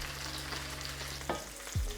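Burger buns toasting in oil in a pan, a continuous close sizzle with a low hum underneath and a couple of brief clatters near the end.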